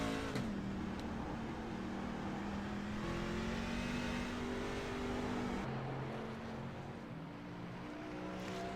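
IAA racing trucks on the Chicago street course, with a truck engine droning steadily as the driver eases smoothly on and off the throttle, its pitch stepping down and the sound dropping briefly partway through.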